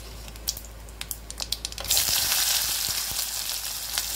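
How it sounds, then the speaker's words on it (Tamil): Mustard seeds, urad dal and a dried red chili hit hot oil: several sharp popping crackles sound first, then a loud continuous sizzle takes over, close and steady with no talking. "கடுகு போட்டிருக்கேன், உளுந்தம்பருப்பு, ஒரு காஞ்ச மிளகாய் போட்டுக்கோங்க"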